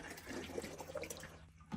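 Water poured from a container into the soil of a potted indoor fig tree, a quiet trickling and splashing stream with small gurgles, continuous for the whole short moment.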